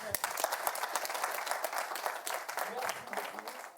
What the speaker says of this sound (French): J'aimerais que vous nous applaudissiez tout d'abord.